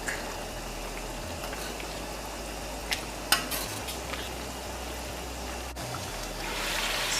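Saijan bhajee with black swamp shrimp and green onion cooking in a pan, a continuous moderate sizzle with a few brief clinks and scrapes of stirring near the middle, no talking.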